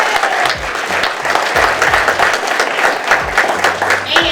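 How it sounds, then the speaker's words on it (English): A senior center audience at a town hall meeting breaks into a big round of applause, loud sustained clapping from a crowd with some voices and cheers mixed in. "give yourselves another big round of applause"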